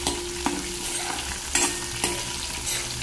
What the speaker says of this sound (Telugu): తర్వాత తాలింపు దినుసులు, ఆవాలు, జీలకర్ర, మినపప్పు వేసా.